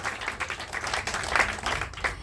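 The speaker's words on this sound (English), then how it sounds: "Please clap for them. For the hoop duet." An audience claps for an aerial hoop duet at an aerial show, a moderate, uneven patter of hands held at a fairly even level throughout.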